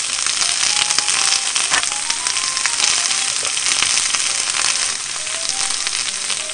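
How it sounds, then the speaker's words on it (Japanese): Green pepper and meat stir-fry in a single frying pan, giving a loud, continuous sizzle with crackling spatters throughout, close up and without talking. "炒めるよ。"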